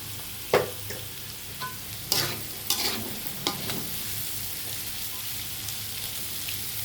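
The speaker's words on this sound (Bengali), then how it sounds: "এখানে কোনো পানি দিব না, শুধু ভাজা ভাজা হবে" Food fries in a pan with turmeric, ginger-garlic paste, ground coriander and salt, with no water added: a low sizzle runs throughout while a spoon stirs and scrapes in a few sharp clacks.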